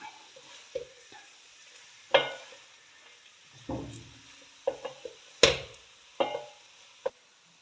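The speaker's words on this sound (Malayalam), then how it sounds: "നമുക്ക് നന്നായിട്ടൊന്ന് മിക്സ് ചെയ്തെടുക്കാം" Noodles and chicken are stirred and tossed together in a pan, giving intermittent sharp scrapes and clatters of a utensil against metal over a faint background sizzle.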